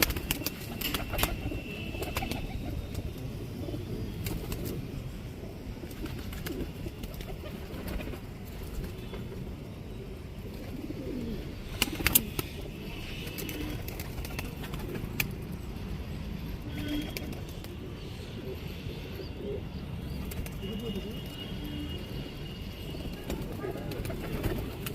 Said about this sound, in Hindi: तो अब मैं आपको यहाँ से दिखा रहा हूँ सारे कबूतर।